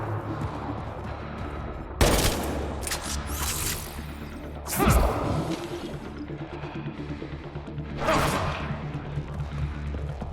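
Gunfire in the video game Mass Effect Andromeda: a few loud bursts and single shots with whooshing swishes between them, scattered across the stretch over a low, steady ambient hum.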